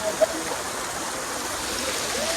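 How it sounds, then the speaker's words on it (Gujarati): Heavy rainwater pours and rushes down stone steps on Girnar during a downpour, a steady close roar of flowing water throughout with no voices. "ત્યાં ખૂબ જ વરસાદ વરસી રહ્યો છે અને સ્ટેપ પરથી ખૂબ જ પાણી વરસી રહ્યું છે"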